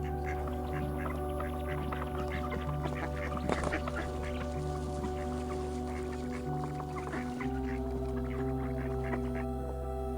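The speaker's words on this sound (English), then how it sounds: "During winter, many migratory ducks arrive." Migratory ducks quack repeatedly on a lake in Bengaluru in winter. The calls are scattered and moderately close over a constant low hum of background noise.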